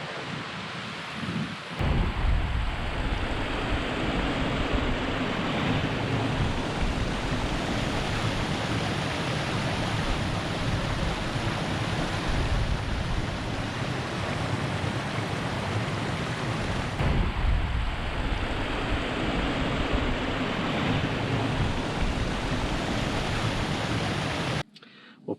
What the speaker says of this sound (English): that water sound, man. One of the most peaceful things in Mother Nature